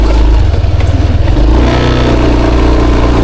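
A motorcycle engine runs loud and close, with a rough pulsing idle that shifts into a steadier, smoother drone partway through, with no speech over it.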